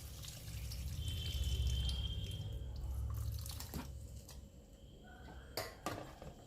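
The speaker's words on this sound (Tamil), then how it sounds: "புளி தண்ணி கரைச்சி ஊற்றிக்கிறேன்." Tamarind water is poured into a pan for a curry, giving a steady splashing pour that tapers off, followed by a few clinks of utensils against the pan in a quiet kitchen.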